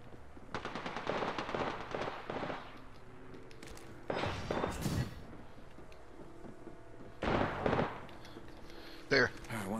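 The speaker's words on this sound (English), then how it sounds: "Get ready to jump up and shoot." Battle royale game gunfire comes in three separate automatic bursts of rapid shots, fairly quiet and distant-sounding, with short gaps between volleys and a final sharp thump.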